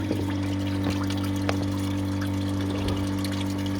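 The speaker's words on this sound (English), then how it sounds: "I'm just allowing the water running like that." Coolant water drains from a radiator hose on a Ford Mondeo Mk4 1.8 TDCi into a bucket, a steady close pouring and splashing flow with a low pump-like hum running throughout.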